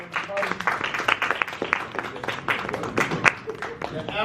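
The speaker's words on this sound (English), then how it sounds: "Let's give them a round of applause." Clapping from an audience at a Black History Month seminar honoring a student group, brisk uneven claps mixed with voices and cheering chatter over a few seconds.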